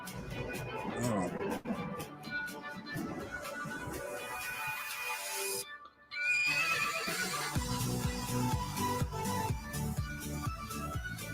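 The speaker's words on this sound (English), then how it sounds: "Now, look, White Horse." A white horse neighs and whinnies amid loud music and crowd noise at a performance, with clip-clop hoofbeats and a brief near-silent gap partway through.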